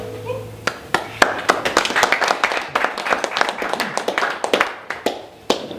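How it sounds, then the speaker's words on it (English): Small audience at a publishing house open mic night clapping by hand, with individual claps clearly distinct, building into steady applause for several seconds and then tapering off. "At least I get a clap before."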